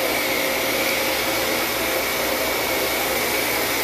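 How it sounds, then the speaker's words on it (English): Steady, loud whine of a vacuum cleaner sucking up leftover debris from a carpet during a cleaning job, a constant unbroken roar throughout with no talking. "so we'll vacuum all that up"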